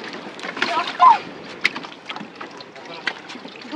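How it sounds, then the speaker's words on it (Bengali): Speed boat ride on a river or lake, with steady wind buffeting and water rushing around the hull close by, while people talk over the noise. "এই হচ্ছে স্পিড বোট, এই স্পিড বোটে করে ঘোরাবে"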